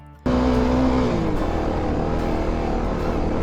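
Kawasaki KLX250 dirt bike engine held at full throttle in second gear while climbing a mountain trail, a loud, steady, close drone with one sustained high-pitched whine that fades after the first second, no talking.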